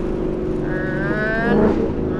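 A Ford Mustang's engine drones loudly through a loud exhaust, rising briefly in pitch as it revs with a throaty exhaust note, while a voice speaks faintly underneath.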